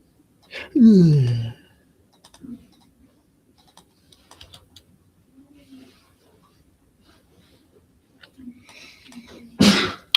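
One loud sneeze bursts out near the start, followed by quiet clicks and small noises, then another sharp burst at the end.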